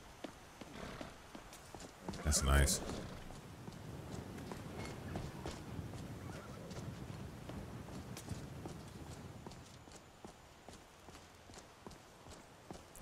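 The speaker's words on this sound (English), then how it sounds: "Yeah, that's a fluffy horse." Hooves of a fluffy horse clip-clopping in Skyrim with the Requiem Lorerim modpack, a steady rhythmic trot under faint ambient noise, with a brief loud burst early and a short spoken remark.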